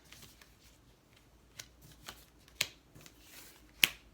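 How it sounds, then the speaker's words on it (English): A deck of oracle cards being shuffled by hand in a quiet indoor room, giving soft rustling riffles and a few sharp, crisp snaps of cards, close and fairly faint, with no voices. "And before I started shuffling, in the pre-shuffle, before I turned the camera on, I shuffled"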